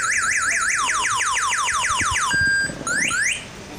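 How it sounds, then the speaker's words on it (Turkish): A motorcycle alarm blares close by, cycling through loud rising and falling electronic siren tones in fast repeated sweeps, then shifting to a steady tone and chirps before cutting out. "Alarmı aç."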